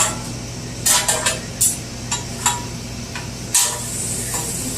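Philly cheesesteak meat with melting provolone cooking on a grill, giving a steady background sizzle broken by several sharp scraping and clinking bursts of a spatula against the surface.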